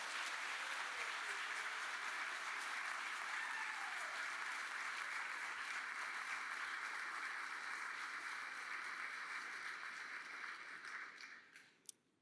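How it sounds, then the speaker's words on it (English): Sustained applause fills a graduation commencement hall for engineering technology graduates, a steady broad clapping from a large audience that continues evenly, then fades out near the end. "Please give them a round of applause,"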